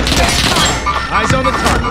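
Rapid gunfire bursts and impacts from the video game Call of Duty Warzone on Rebirth Island, loud and close, with a voice heard under the shooting.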